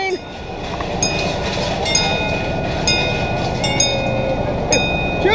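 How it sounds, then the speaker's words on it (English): A train rolls past at Adventureland amusement park with a steady, loud rumble, rhythmic clatter and squealing wheels, while people talk faintly nearby. "Look at the train."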